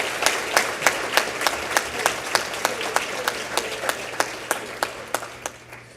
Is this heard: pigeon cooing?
no